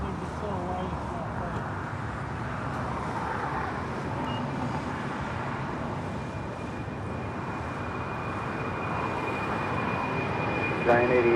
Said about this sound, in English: Queen now rolling down, heading to Travis Air Force Base.